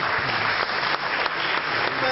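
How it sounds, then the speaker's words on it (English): Audience applause at an award dinner, a steady wash of many hands clapping at moderate volume throughout, with a voice faintly present. "Give him a round of applause for that."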